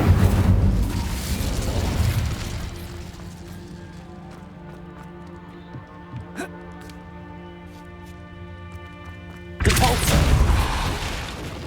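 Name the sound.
Incendio fire spell being cast in the video game Hogwarts Legacy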